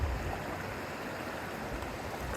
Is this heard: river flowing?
yes